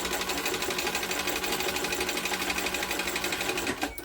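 A sewing machine stitches a seam on a fabric tote bag, running fast and close with a steady, rapid mechanical chatter that stops just before the end.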